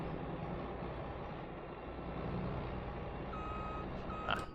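Vehicle reversing alarm in the Farming Simulator 22 video game: a few steady, evenly spaced beeps come in near the end over a constant low engine rumble.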